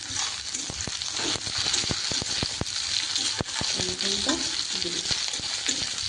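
Tomatoes and green chillies sizzle steadily in a hot pan while a utensil knocks and stirs in irregular taps, close by and fairly loud.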